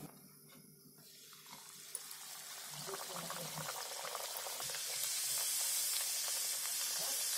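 Mathri dough pieces dropped into hot oil, giving a soft bubbling sizzle that starts faint and grows steadily louder and denser, with a few light clinks early on.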